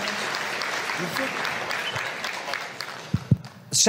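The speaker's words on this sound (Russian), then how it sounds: "Бурные аплодисменты." Applause from a seminar audience fills most of the clip as a dense, steady wash at moderate level, then thins out near the end with a few louder claps and a brief voice.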